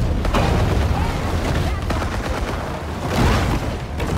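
Continuous heavy machine gun fire and scattered blasts in the Maneater video game, a loud dense barrage running throughout, with a voice talking over it.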